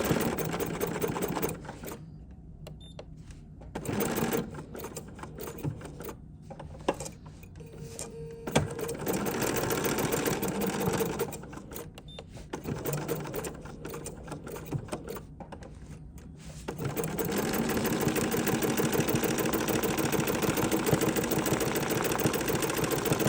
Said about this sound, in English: I'm just going to over sew right on top of that so I can get right to that line I need to stitch.